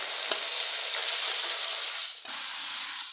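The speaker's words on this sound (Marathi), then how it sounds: "ती बटाट्याची भाजी मी त्याच्यात घालते कढई" Spiced potato vada filling hits hot oil in a kadhai with a loud, steady frying sizzle that dips briefly near the end and then resumes, with no talking.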